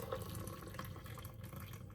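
Tap water runs steadily into a kettle being filled for tea, a continuous splashing flow with no talking.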